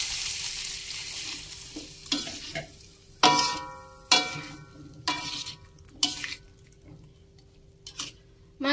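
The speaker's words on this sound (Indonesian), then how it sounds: "Masukkan air." Spicy sweet meatballs stir-frying in a pan with sliced red chili as water is added, giving a steady close sizzle broken by several sharp hissing bursts and scraping stirs.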